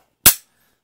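A single sharp report from a Mosin Nagant Type 53 rifle, one loud close shot with a quick decaying tail, otherwise silent.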